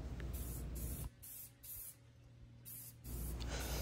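Rattle-can spray paint hisses onto a metal gate in two loud bursts, one at the start and one at the end, with a quieter stretch of faint hiss and hum between them.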